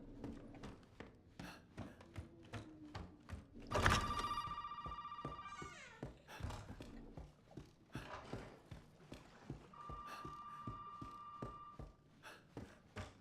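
A telephone rings in Resident Evil 7, with two separate bursts of bright, tonal ringing against a busy background of footsteps and clattering game sounds.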